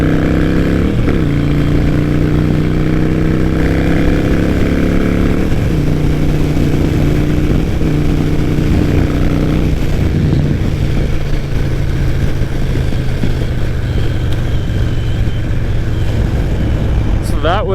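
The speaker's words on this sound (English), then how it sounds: "That was almost 80 miles an hour, and that felt pretty fast because this bike doesn't really have a fairing" A Harley motorcycle without a fairing cruising at close to 80 mph, its steady engine drone mixed with heavy wind rush, loud and continuous throughout.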